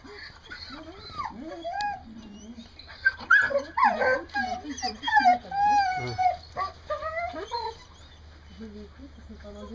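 A dog whimpers and yips in short, high, wavering cries at a sheep herding session, moderately close, mixed with people talking in French.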